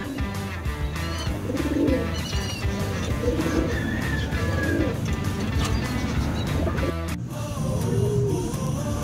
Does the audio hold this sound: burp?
no